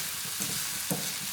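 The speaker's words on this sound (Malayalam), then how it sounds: "ഇതൊന്ന് ആദ്യം ഒന്ന് മൂപ്പിച്ചെടുക്കാം ഈ ഇഞ്ചി വെളുത്തുള്ളി" Ginger and garlic fry gently in oil over a low flame, producing a steady soft sizzling hiss with a couple of faint pops.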